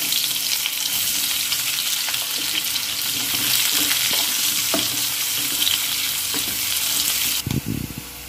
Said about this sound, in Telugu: తర్వాత అదే ఆయిల్లో ఆనియన్స్ వేసుకొని బ్రౌన్ కలర్ వచ్చే వరకు బాగా ఫ్రై